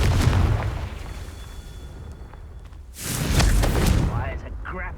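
A Confringo blasting spell explodes in the Hogwarts Legacy video game, a loud broadband boom swelling partway through and rumbling for a couple of seconds over steady game noise, with speech heard in the scene.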